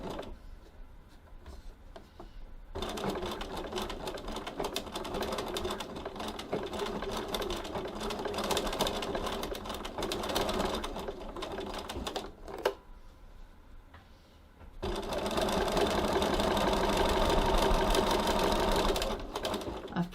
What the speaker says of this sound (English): So I'm going to back tack here a few times.